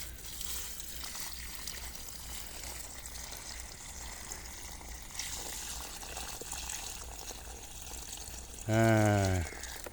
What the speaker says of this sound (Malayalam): ആ വെള്ളം നമ്മൾ കളയില്ല നമ്മൾ പാവലിൻ്റെ ചുവട്ടിലോട്ട് ഒഴിക്കും